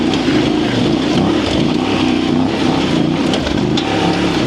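A Voge DS800X motorcycle on Pirelli STR road tyres is ridden in first gear with a little clutch slip, its engine giving a loud, steady drone close up with slight rises and dips in pitch.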